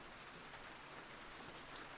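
Steady soft rain falls on surfaces, a dense even hiss of drops, faint and continuous throughout, no voices or thunder.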